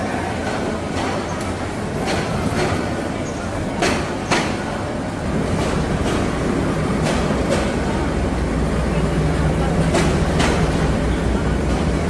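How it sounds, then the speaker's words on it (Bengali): A train lurches off from a station platform after sounding its horn and keeps rolling, a dense steady rumble of wheels with rhythmic clacks and rattles. A voice talks over it. "একটা হর্ন দেওয়ার সাথেই একটা ঝাঁকুনি দিয়ে ট্রেনটা চলতে শুরু করলো"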